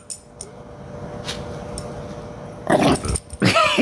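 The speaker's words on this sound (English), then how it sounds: "She's growling." A small dog growls in short bursts at close range, first low and faint under background noise, then louder, rougher rumbles near the end.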